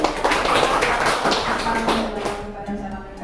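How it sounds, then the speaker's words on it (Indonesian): A classroom applauds, with many hands clapping in a dense, loud burst that starts at once and fades toward the end, heard close and with voices mixed in. "Berikan aplaus."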